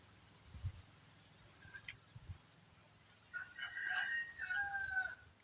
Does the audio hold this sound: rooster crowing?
yes